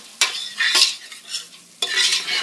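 Fried rice stir-frying in a hot pan that is shaken and stirred, with sharp scraping strokes and tossing rustles in bursts over a light sizzle, close and clear, no speech.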